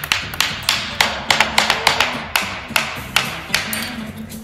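A hammer drives nails into the curved surface of a wooden canvas stretcher frame, a quick series of sharp, close taps in a fast, slightly uneven rhythm.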